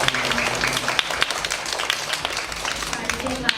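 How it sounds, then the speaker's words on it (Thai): An audience at a scholarship handover ceremony applauds a generous benefactor, a dense sustained patter of many hands clapping with a few louder claps, a voice talking over it. "ต้องขอเสียงปรบมือให้กับท่านผู้ใหญ่ใจดี ของเราด้วยนะครับ"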